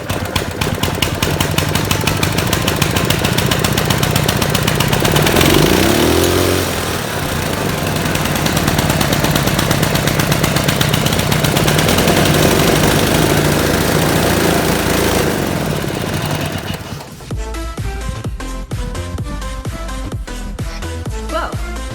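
A small engine with a JB Weld-repaired crankcase and no throttle control runs loud and close, a dense steady buzzing roar for about seventeen seconds that briefly dips in pitch, then cuts to a different, tonal sound.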